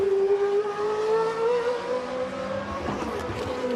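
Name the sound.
GP2 race car driving through the final corner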